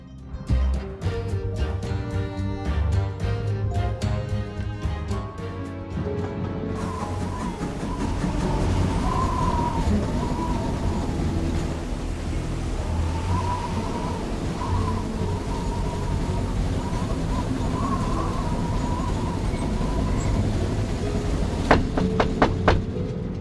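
A moving train on the Orient Express, with a steady rolling rumble and faint rhythmic clatter of wheels on track, continuous throughout, with a few sharp metallic clanks near the end.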